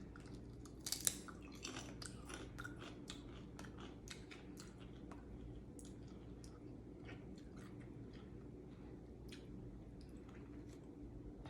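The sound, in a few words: crunching on Dutch snack chips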